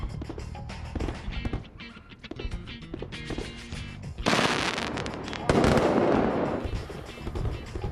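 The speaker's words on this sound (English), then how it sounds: "They've decided to put on a fireworks display just outside our window that continues well into the night." Fireworks burst outside a window at night during Chinese New Year in Yunnan, a dense run of crackling pops and booms that swells into louder, continuous barrages in the second half.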